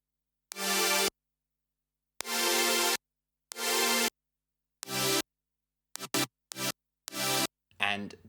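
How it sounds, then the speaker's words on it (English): Synth chords from a remix drop, played as separate sustained stabs, a few long ones then quicker short hits, clean and up front with silence in between. "there are 2 main synth elements going on here. We have these chords,"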